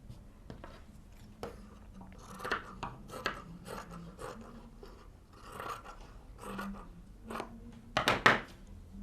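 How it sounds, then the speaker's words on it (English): Scissors snip through the fringe of a fabric scarf in a run of short, close cuts with faint rasping, the loudest burst near the end, with no talk over it. "Cut all this fringe off."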